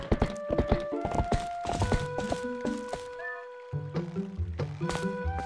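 Epona, the horse in the video game Twilight Princess, trots with a steady clip-clop of hooves against game music, with thunks and crunchy steps between the hoofbeats.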